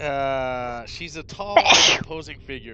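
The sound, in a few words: sneeze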